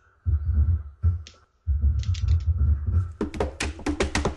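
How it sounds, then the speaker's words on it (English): Close clacking of a computer keyboard, a few bursts of rapid typing separated by short pauses, growing busier toward the end. "This is what your fucking keyboard sounds like."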